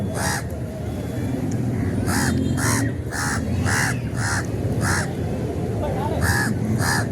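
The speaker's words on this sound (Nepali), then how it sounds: "मलाई यस्तो कागहरू करायो भने कस्तो डर लाग्छ हौ" Crows caw repeatedly in a steady series of harsh calls, about eight or nine in all, over a constant background rumble.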